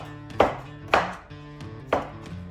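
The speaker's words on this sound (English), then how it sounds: "I'm gonna cut the garlic down in little pieces." Garlic being cut into small pieces with a knife on a board, three crisp, evenly spaced chops, close and clear, with a low hum in the background.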